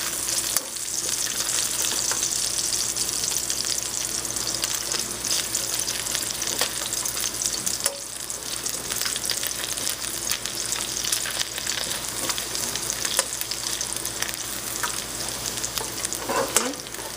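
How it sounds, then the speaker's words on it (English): Steady sizzling of food frying slowly in a pan with dried red pepper flakes, a continuous crackle with occasional louder pops, close up and with no talking. "Okay, so this is frying slowly,"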